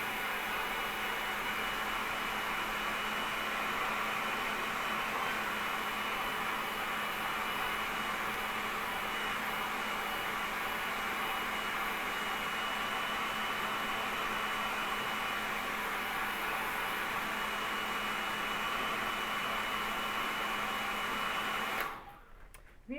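A hair dryer blows steadily on a drying painting, a constant even whoosh running unbroken for about twenty seconds before cutting off abruptly at the end.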